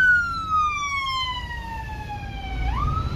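Police patrol car siren wailing on a street in Mexico City, a loud, close electronic tone sweeping slowly downward before jumping back up near the end, over low traffic rumble.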